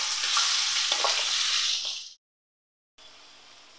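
Shrimp fry lightly in refined white oil in a pan, a bright, loud sizzle that fades out into silence, then returns as a quieter frying hiss.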